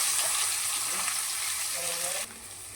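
Onions frying in hot oil for a dry fish tomato curry, a loud dense hiss of sizzling close by that drops suddenly near the end.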